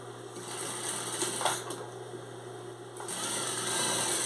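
Sewing machine stitching a fabric dish towel with a one-centimetre seam, a steady close mechanical whir and rapid needle chatter running throughout, with a brief pause near the middle.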